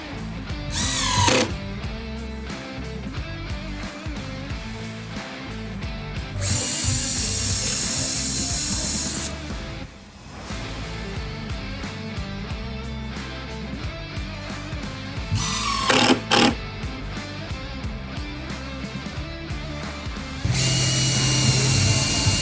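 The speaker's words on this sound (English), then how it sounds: "Pat and George held it in place as Al secured both ends of the framing with 2 screws apiece." Power driver sinking screws into the wooden framing of a Ford Model A luggage trunk box, with several loud high-pitched whirring bursts over a busy, constant workshop din.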